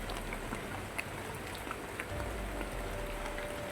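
Continuous outdoor rain pours down as an even, unbroken hiss, fairly soft and constant, with a few faint taps and a low rumble underneath.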